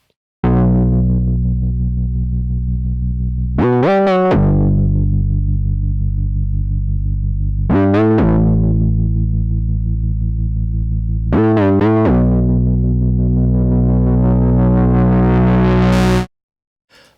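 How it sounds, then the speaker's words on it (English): A mono bass patch from a Moog Sub 37 synthesizer plays long, loud sustained low notes, changing pitch three times with brief gritty attacks, then stops abruptly. "we're going to be looking at this mono bass, which is taken from a Sub 37 and it's in the Sub-Zero pack"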